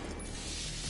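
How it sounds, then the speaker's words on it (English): Pistol magazine reload in The Division 2, a quick burst of metallic clicks and mechanical rattles lasting about a second under a dense game soundscape. "I reload so quickly, you can't even see me put a mag in my pistol"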